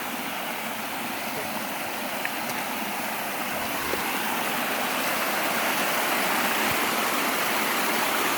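A small waterfall at Clifty Falls, Indiana rushes in a steady, loud, broadband hiss that stays constant throughout, close by and uninterrupted.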